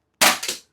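A toy gun fires a single sharp crack, followed quickly by a second smaller snap, loud and close in an otherwise quiet moment.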